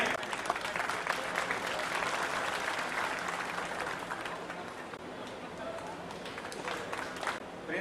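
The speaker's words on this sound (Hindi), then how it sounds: "जोरदार तालियों के साथ आप इन बच्चों को हौसला अफजाई करें।" Loud, sustained applause from a crowd honouring students at a Kashyap community foundation ceremony in Kurukshetra, dense clapping holding steady throughout with faint crowd murmur beneath.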